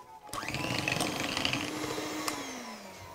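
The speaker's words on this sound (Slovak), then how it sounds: "A vyšľaháme hladký krém." An electric mixer whips butter into a cooled custard cream for ring-shaped pastries, a steady close motor whine that starts abruptly and drifts slightly lower in pitch as it runs.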